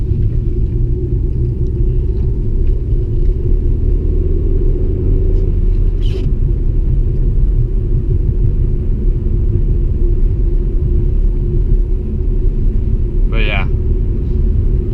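A 2001 Audi S3 8L driving, heard from inside the cabin; a loud, steady low engine and road rumble runs throughout, with a brief faint chirp near the end and no audible talk.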